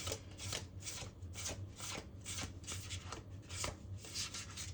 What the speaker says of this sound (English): I'm still gonna shuffle for you